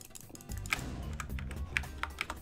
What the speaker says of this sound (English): Jitter clicking is overpowered!